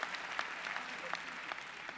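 Applause from an audience at a college commencement ceremony, a steady wash of many hands clapping at moderate, fairly distant level for the whole stretch, with a few sharper individual claps standing out.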